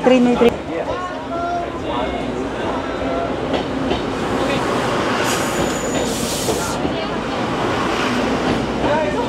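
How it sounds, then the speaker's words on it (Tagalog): Train passing on a tourist line at Shifen Old Street in northern Taiwan, a loud continuous rumble with wheel squeal and rattle throughout, under excited talk from people nearby. "Ay, may train."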